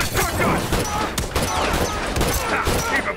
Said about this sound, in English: He's got a shotgun!